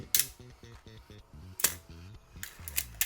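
An Olympus OM-1 film camera fires its shutter several times in a row, sharp close mechanical clicks spaced irregularly, with faint whirring tones between them and no talking.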